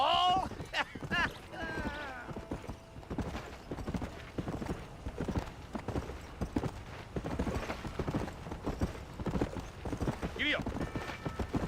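Horse hooves in Red Dead Redemption drum in a fast, steady galloping rhythm, with a whinny and creaking tack, close and prominent under a few words of talk.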